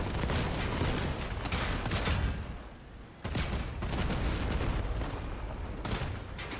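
Gunfire in the vehicle combat video game Crossout: continuous loud volleys of rapid shots roll on almost without a break, with a brief lull in the middle before the barrage resumes.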